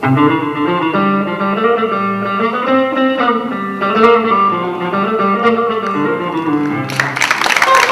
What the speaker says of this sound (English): a simple electric guitar that can play any kind of Western music